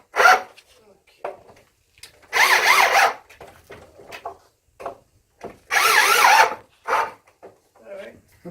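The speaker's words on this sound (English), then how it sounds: "the electric drill here just to make these nice and flush" A cordless electric drill drives screws flush into wood in a garden, with two sustained whirring bursts of several seconds each, close up, separated by short knocks, handling noise and intermittent talk.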